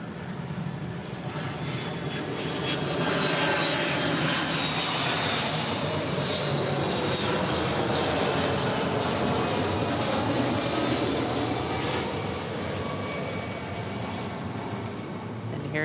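Delta jet airliner engines roar steadily at LAX, a loud broadband rumble that builds and holds across the whole stretch with no talk over it.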